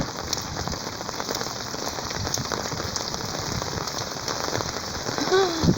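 Rain falling steadily on flooded city streets, a dense even patter of drops spread across the scene, moderately loud and continuous without talk.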